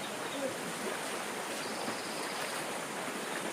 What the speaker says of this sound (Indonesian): Lintas sungai lagi Mas Angga ya.